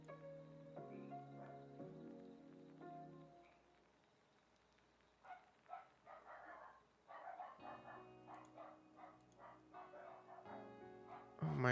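Dogs bark and yip in short, fairly faint bursts, partly drowned by someone talking over them.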